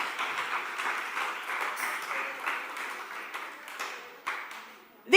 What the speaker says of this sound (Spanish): Aplauda de verdad.